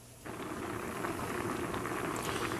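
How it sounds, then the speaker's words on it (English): Apple cranberry compote boils in a large lidded pot over a gas flame, giving a steady, close bubbling hiss that swells up after a brief quieter start and carries on evenly. "I thought you'd like to hear the sound of the boiling."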